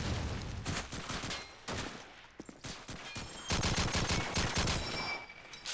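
Dense gunfire and a grenade blast in a Call of Duty 2 multiplayer match, sustained rapid shots in loud bursts with brief lulls, close and continuous.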